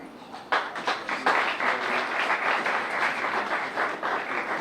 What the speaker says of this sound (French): J'entends peut-être quelqu'un applaudir mieux au niveau du groupe Zamar